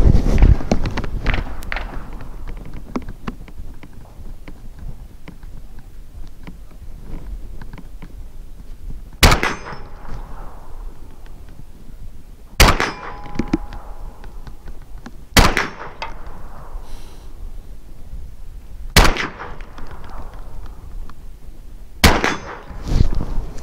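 Five sharp, loud gunshots from a semi-automatic .44 Magnum rifle fired outdoors, spaced a few seconds apart with ringing decay after each, over steady background noise and no talk.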